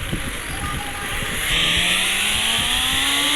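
A modified motorcycle engine idles with a rough low rumble, then revs up around the midpoint and holds a louder, rising drone, recorded close by.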